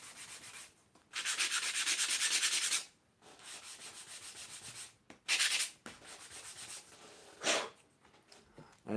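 Sandpaper rubs against a small beech wood piece being shaped into a 1/12-scale dollhouse box, giving loud bursts of gritty scraping that come in uneven strokes with short pauses between them.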